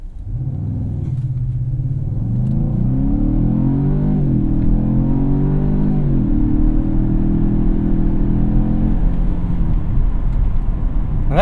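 A 2017 Ford Fusion Sport engine roars at full throttle from a standstill, revs climbing steadily through several gear-like pitch steps, loud and sustained throughout.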